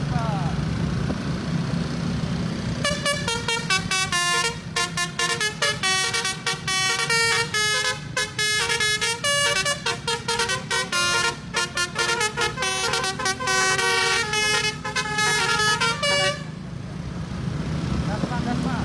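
Buses race at night and sound telolet horns, loud musical honking in rapid tuneful bursts over a rumbling engine, with a background of people shouting.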